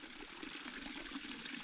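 Warm natural hot spring water at San Filippo in Tuscany flows and trickles in a soft, steady stream, close and gentle, with nothing else heard.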